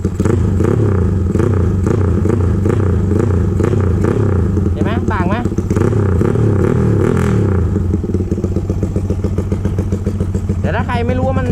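A carbureted Honda CBR150 with an aftermarket API ECU idles loud and close, its engine throbbing steadily, and is blipped into short revs, while someone talks over the engine.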